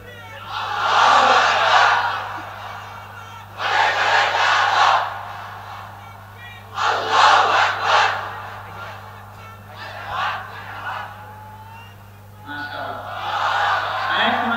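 At a Bangladeshi Islamic gathering, a large crowd answers a takbir call with loud chanted Allahu Akbar, several surging, roaring responses in alternation with a leader's voice, over a steady electrical hum from the sound system.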